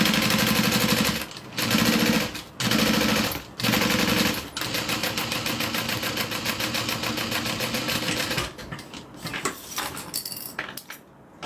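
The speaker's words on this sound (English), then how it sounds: "Alright, so now we're going to do a top stitch." A sewing machine runs a topstitch in pink thread, loud and close, first in short rapid bursts with pauses, then in one long steady rattling run before slowing to a few final stitches.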